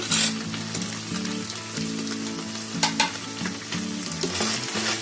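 Boiled pasta and cooked onion are stirred together in a hot pan for a spicy homestyle pasta masala, with close sizzling and intermittent scraping clicks over a soft, steady melodic background.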